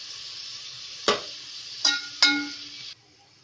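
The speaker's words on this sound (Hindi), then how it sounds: "तो 2 मिनट भूनूंगी मैं लहसुन अदरक और साबुत गरम मसाले के साथ" Garlic, ginger and whole garam masala sizzle steadily in a pot, a close bright hiss with three sharp metallic clinks of a spoon stirring against the pot, and no voices.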